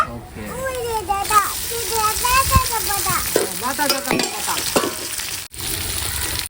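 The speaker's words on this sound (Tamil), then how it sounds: "வெங்காயம் நல்லா வதங்கிச்சு இது கூட வந்து நான் வந்து தக்காளி போட்டுக்கிறேன்" Onions and tomato fry in a pan for duck curry, giving a steady close sizzle, while children's voices and talk carry on loudly over it.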